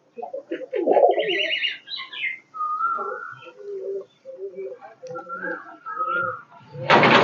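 A pair of satin pigeons in a loft, preparing to lay eggs and pulling straw, coo and warble in a string of close, distinct calls, ending in a brief burst of noise.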